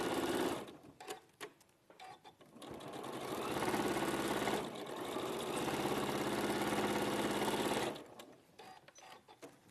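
A sewing machine stitches in long, steady bursts with a buzzing, rapid mechanical rhythm, close and loud, stopping briefly between runs.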